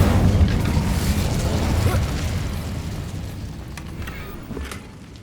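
An Incendio fire spell cast in Hogwarts Legacy: a loud, close, roaring whoosh of flame that fades over several seconds, with faint crackles at the end.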